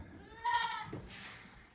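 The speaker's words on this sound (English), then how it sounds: "We got goats." A goat bleats once, close and clear, a wavering nasal cry followed by a softer second call, in a herd of females that includes Nubian goats.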